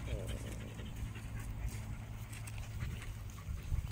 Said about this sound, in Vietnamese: Chó này chỉ phù hợp anh em nào mang vào trong rừng sâu thôi nhờ.